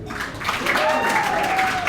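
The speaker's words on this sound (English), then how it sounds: "I gotta ask, by round of applause," Audience applause and cheering from a comedy club crowd during a stand-up set, a steady dense wash of clapping lasting the whole moment, with a faint whistle-like tone gliding through the middle.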